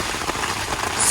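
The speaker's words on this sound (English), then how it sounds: "It's raining." Steady rain drumming on a truck-bed tent during a storm, a dense, loud, even patter that fills the whole moment without a break and with no talking.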